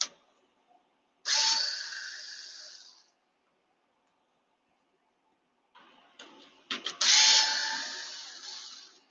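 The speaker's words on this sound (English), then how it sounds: "let's take off the center diff screws" A power driver backs out the center differential screws on a Traxxas Sledge RC truck: two close, loud bursts of whirring, the second longer and stuttering as it starts, separated by a few seconds of quiet.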